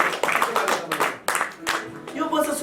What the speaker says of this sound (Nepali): साथीलाई ताली बजाइदिनुहोस् न।